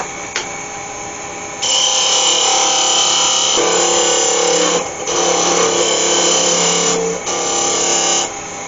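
A wood lathe turning small wooden legs for a pig figure, producing a loud continuous whirring grind in long passes separated by brief pauses, with no talk.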